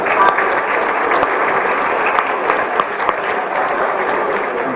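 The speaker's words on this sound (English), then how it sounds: "another round of applause for Gita Blakeney-Salters" A dense, steady round of applause from the audience at a health foundation awards lunch, many hands clapping loudly and evenly throughout with no pause.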